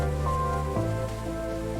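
Heavy monsoon rain pours onto a street in a steady, dense wash of noise that fills the background without pause.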